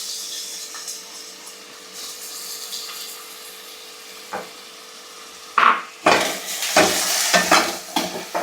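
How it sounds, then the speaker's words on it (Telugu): Chopped onions and green chillies frying in a pan for chicken curry: a quiet sizzle at first, then loud spoon-against-pan scraping and stirring bursts over continuing frying noise. "ఆనియన్స్ మంచిగా బ్రౌన్ కలర్ వచ్చేసే వరకు మనం వేపేసుకోవాలి"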